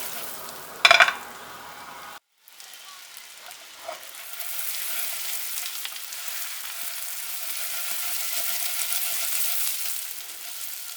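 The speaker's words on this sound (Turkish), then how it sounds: "Kabuklarını soyduğum patatesleri tavaya alıyorum. Şöyle bir çevirelim." Peeled potatoes drop into a hot pan with a clatter, and after a brief pause a steady frying sizzle rises. The sizzle keeps growing as the potatoes are turned over with spices.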